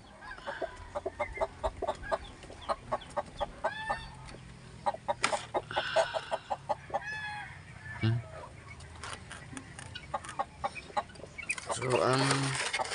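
Chickens cluck in a rapid, repeated series at close range on a farm, with occasional louder calls and some speech-like vocal sounds mixed in.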